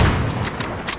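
Rapid gunfire in Call of Duty Modern Warfare during a 1v1 match, a quick burst of three or four sharp shots after a dull opening boom, loud and close.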